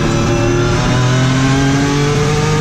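Rhys Millen's Hyundai Genesis Pikes Peak race car, heard from inside the cabin, its engine loud and revving with rising pitch through the gears, droning continuously with no talking.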